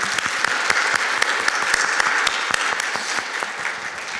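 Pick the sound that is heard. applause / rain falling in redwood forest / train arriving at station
applause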